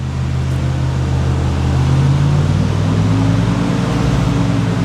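Chevrolet Blazer accelerating to 140 km/h on the road, a loud continuous interior drone whose low engine tone climbs steadily in pitch, with no talking.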